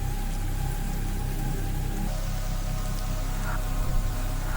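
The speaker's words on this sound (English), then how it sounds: "with rain coming down so hard it sounds like you're driving through a car wash" Heavy rain pouring down hard and steadily, a dense close wash of drumming drops with a low rumble underneath, no voices.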